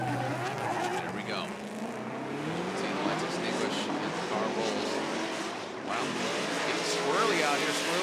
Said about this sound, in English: See the lights extinguish and the car rolls.